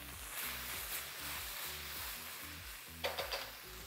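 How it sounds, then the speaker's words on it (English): Ground beef for bulgogi sizzling in a pan, a steady close frying hiss with stirring scrapes and a short clatter near the end, over soft rhythmic background music. "When you start hearing all the sizzling sounds again, not the boiling sound, but sizzling sound"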